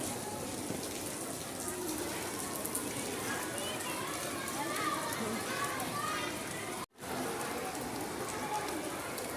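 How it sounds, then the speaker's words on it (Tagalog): Heavy rain pours steadily in a dense, constant hiss, with faint voices of people in the background, in the Philippines. "grabe lakas ng ulan"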